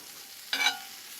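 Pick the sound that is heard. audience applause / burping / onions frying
onions frying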